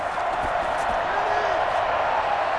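A dense stadium crowd roar fills a Madden NFL video game matchup of the Browns at the Steelers, steady and loud throughout with faint cheering swells.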